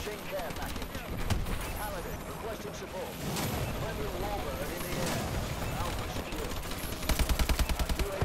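Assault rifle gunfire in a shooter game crackles in repeated bursts, with a rapid, louder string of shots near the end, mixed over game ambience and a voice talking.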